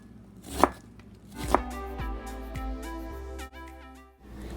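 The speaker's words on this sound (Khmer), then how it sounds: "Slice, then cut into small pieces." A knife chops a shallot bulb into small pieces on a board, with two sharp, distinct cuts, then softer knocks under steady background music.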